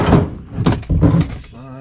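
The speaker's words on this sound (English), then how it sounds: "we're going to turn the cart over" A Gorilla Cart garden cart with a 7 cubic foot capacity is tipped onto its side, giving a few loud, close hollow thumps and scraping clatters one after another.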